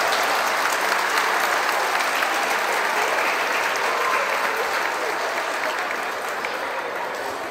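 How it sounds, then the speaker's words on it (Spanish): An audience at a community kindergarten event in Xalapa gives a dense, loud, continuous round of applause that thins slightly toward the end. "un aplauso, por favor,"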